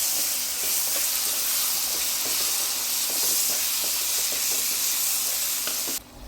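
Chopped cauliflower, cabbage, peas and a small potato sizzle steadily in a pan while being stirred, a continuous bright frying hiss with small scraping clicks, close and fairly loud, cutting off near the end.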